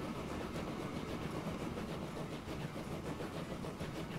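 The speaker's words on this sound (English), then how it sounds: "Oh, we are starting to see lots of trains running around." Trains rolling through the Transport Fever 2 game world make a steady, continuous rumble with a clickety-clack rhythm of wheels over rail joints, running at an even level throughout.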